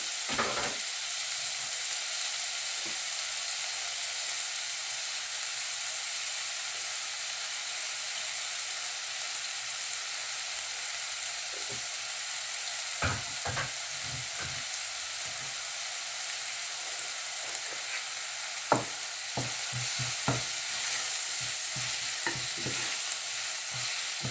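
Onions sizzle gently in a pan for a chicken and spinach quiche, with a steady soft frying hiss. A utensil stirs and scrapes now and then, in scattered close clusters, and there is no talk.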